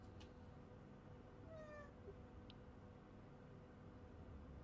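A cat meows once, a short rising-and-falling cry heard faintly and a little distant over a steady background hiss, with no talking.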